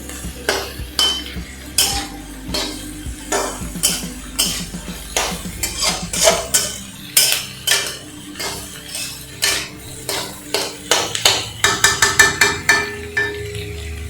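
Onions being stirred and fried in a pan, probably with salt going in, come through as sharp metallic clinks and scrapes of a utensil against the pan, close and repeated in an irregular rhythm, with no talking.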